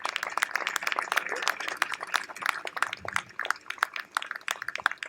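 An audience clapping for teachers at a graduation ceremony, a brisk, irregular patter of many hands, fairly close and moderately loud, with no talking.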